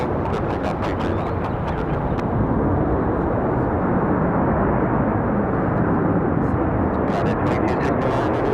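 A jet airliner takes off from runway 23 left at Raleigh-Durham International Airport, a continuous loud, deep roaring rumble that holds steady throughout.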